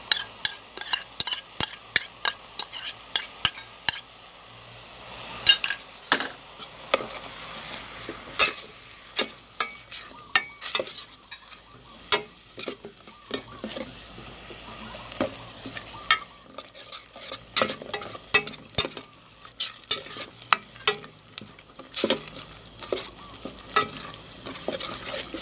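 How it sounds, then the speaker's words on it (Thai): Curry paste with pounded chili simmering and frying in a pan, with a rapid run of loud metal spatula scrapes and clinks over a low sizzle, no talking. "เคี่ยวเครื่องแกงก่อนให้แตกมันก่อนนะจ๊ะ"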